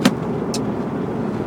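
Steady low rumble inside a moving car, with a brief click near the start and a short soft hiss midway, the road and engine noise continuous and fairly quiet throughout.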